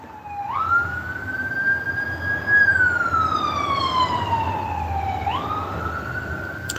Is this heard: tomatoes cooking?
no